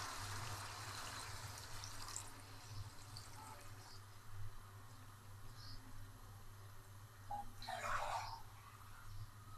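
Chicken yakhni stock is poured into half a kilo of rice for a Punjabi chicken pulao, giving a soft, steady liquid wash over low kitchen hum, with a brief, louder splashing burst near the end.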